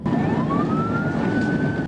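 A police car siren wails steadily during a traffic stop, its rising tone sweeping upward over a rumbling road noise, fairly close and loud throughout.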